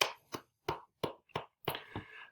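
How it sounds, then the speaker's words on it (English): Sparse, separate hand claps from a small group at a human resources orientation, about six sharp claps in an even rhythm in a quiet room, ending in a short overlapping burst. "give each other a round of applause"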